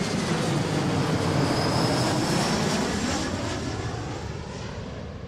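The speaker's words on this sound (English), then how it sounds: "this is our Delta flight from Eugene" A Delta Embraer 175 jet airliner arriving at Seattle airport passes with a loud, broad engine roar that peaks early and then slowly fades as it moves away, with no voices.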